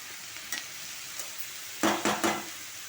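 Tender ivy gourd and onion fry in a pan with a soft, steady hiss. A few stirring scrapes and clatters sound, and a cluster of louder strokes comes near the end.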